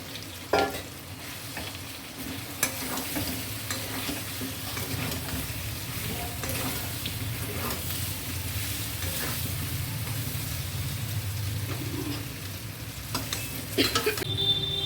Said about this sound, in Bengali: দেন এবার আমি আলুগুলোকে দিয়ে আবার কষাবো।